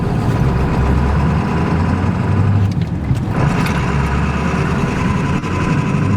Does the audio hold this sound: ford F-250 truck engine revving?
yes